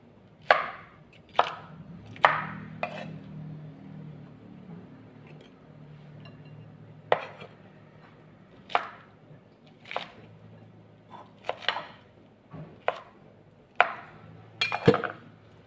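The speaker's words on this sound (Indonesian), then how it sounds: "nah jamurnya juga dipotong-potong ya" A knife chops mushrooms for a tomato and egg soup, giving crisp, close chops in irregular clusters against a quiet kitchen background, with no talking.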